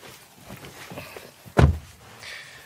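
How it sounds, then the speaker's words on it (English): Rear door of a 2019 SEAT Tarraco seven-seat SUV: a single solid thunk of the latch releasing, close and loud, framed by quieter handling noises. "let's check out the rear, and that's accessed through these wide opening doors"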